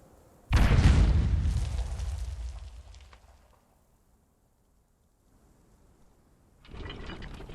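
A Demon Fire artillery barrage in Conan Exiles lands with a heavy, booming blast that rumbles and fades over about three seconds, then near silence before a second rumbling burst begins.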